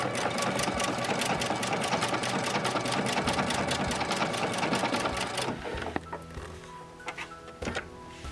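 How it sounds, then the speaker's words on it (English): A sewing machine stitches ribbon onto fabric, its loud rapid needle chatter running for about five seconds before slowing and stopping, followed by a few quieter clicks and handling noises. "hold the ribbon flat, and sew again"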